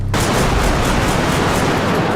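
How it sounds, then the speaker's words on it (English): Rapid bursts of automatic shotgun fire from the R12 in the video game Bodycam, loud and dense throughout, with blasts running together into a sustained roar of gunfire. "to the Viper, the R12 automatic shotgun,"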